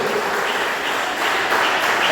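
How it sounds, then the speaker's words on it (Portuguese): Church congregation applauding joyfully during a Portuguese-language worship service, a dense, continuous wash of clapping with a faint voice mixed in beneath it. "As palmas bem alegres exaltam o nome de Jesus"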